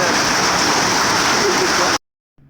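Heavy storm rain pours down in a dense, loud, steady roar for about two seconds, then cuts off abruptly into near silence.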